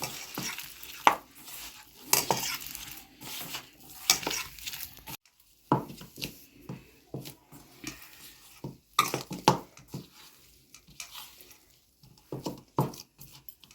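Raw green banana kofta mixture with green chilli paste being kneaded by hand in a bowl, giving soft squelchy mashing and pressing sounds in an irregular rhythm with occasional light knocks, close up, with no talking.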